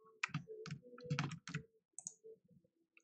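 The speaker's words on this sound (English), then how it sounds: "I've had several people tell me I'm a really loud typer" Loud typing on a computer keyboard close to the microphone: a quick burst of sharp clacking keystrokes in an uneven rhythm, then a few lighter taps and a pause, with no talking.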